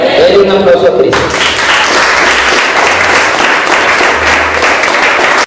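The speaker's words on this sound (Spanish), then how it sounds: "Denle un aplauso a Cristo" A church congregation breaks into loud, sustained applause during a sermon, dense clapping that fills the room after the preacher's voice is heard briefly at the start.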